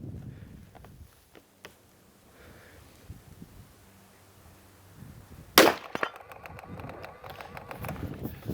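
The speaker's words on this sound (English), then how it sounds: "let's go ahead and put 5 rounds on a steel plate here at 100 yards" A single-shot .218 Mashburn Bee rifle fires once at a steel plate 100 yards away outdoors, making one sharp, loud crack midway through an otherwise quiet stretch with faint birdsong.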